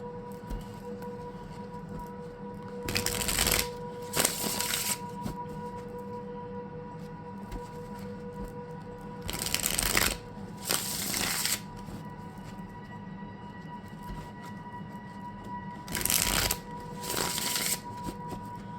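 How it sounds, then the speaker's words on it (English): Three separate bouts of close-up shuffling of a tarot deck, each a quick papery riffle of a couple of seconds, separated by quiet pauses. "Actually, I'm going to shuffle all of them and see what comes up."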